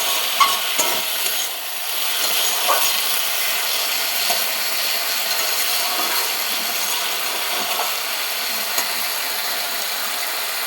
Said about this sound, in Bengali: আর একটু কষে নেবো ভালো করে